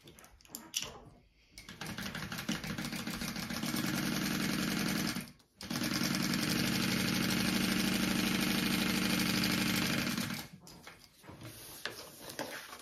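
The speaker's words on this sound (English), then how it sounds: "Sew along the top and bottom at the seam allowance" A sewing machine stitches backpack fabric seams along the top and bottom edges, running in two long steady bursts with a short pause between them, close and fairly loud, with no talking.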